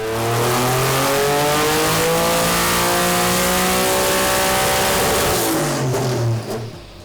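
A stock Nissan VR38 V6 in an R34 Skyline GT-R, boosted to just under 15 psi, revs hard and climbs through the gears, its loud rising tone sweeping upward before cutting off near the end.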